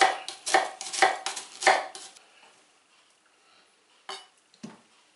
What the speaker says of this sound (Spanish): Vamos a picar la cebolla.